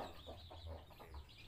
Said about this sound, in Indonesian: Ayam istimewa.